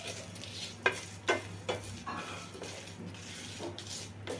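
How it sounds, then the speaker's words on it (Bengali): Fennel, cumin and coriander seeds dry-roasting in a hot frying pan over a low gas flame, with a few distinct scraping stirs and faint rattling of the seeds against the pan, fairly quiet and alone. "এবার মৌরি, জিরে আর ধনে এটা একসাথে এবার ভেজে নেব।"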